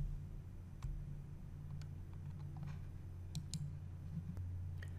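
Sparse computer mouse clicks sound during setup software for an SMA Sunny Island inverter, a handful of quiet, separate clicks spread across a steady low hum.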